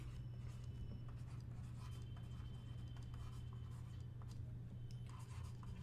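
Pen or chalk writing by hand during a physics lesson, a steady soft scratching that runs throughout under a constant low hum, with no talking.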